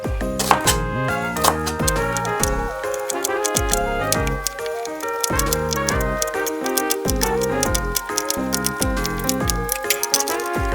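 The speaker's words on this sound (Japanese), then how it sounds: "玉ねぎは1センチぐらいの半月切り。" A knife chopping onion into one-centimetre half-moon slices on a cutting board, steady rapid taps against the board over a continuous musical backing.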